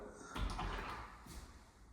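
A sliding closet door in a home's bedroom rolls along its track, a soft, close rumble with a light knock at the start and a second brief bump near the end.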